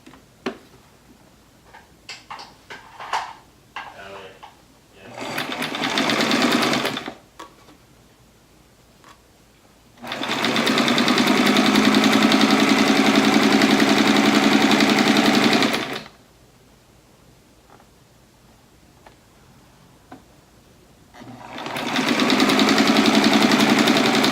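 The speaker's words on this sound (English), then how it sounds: "I'm going to put the first sashing end to end and then just sew it straight down." Sewing machine sewing quilt sashing strips straight down, three loud sustained runs of rapid stitching up close, the longest about six seconds, separated by quiet handling sounds and clicks.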